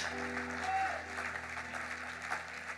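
A church congregation applauds and acclaims God during a French-language sermon on fasting and prayer, a steady wash of clapping and crowd noise that holds throughout at moderate level.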